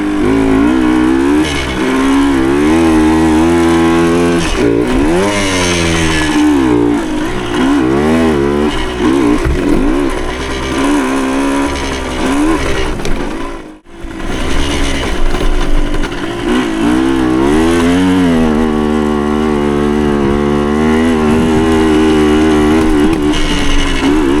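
A 1975 Suzuki TS125 two-stroke trail bike engine ridden on dirt trails, droning and revving continuously with rising and falling pitch, close and loud, dipping briefly to near silence midway before picking back up; no talk.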